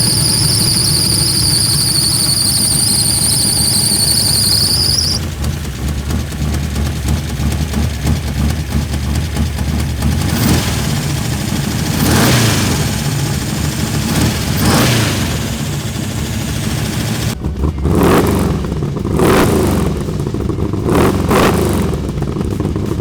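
A Chevy small block V8 swapped into a JDM car cranks with a high squeal, then catches and idles roughly, with several sharp revs blipping up and settling back, loud and close, and no talk over it.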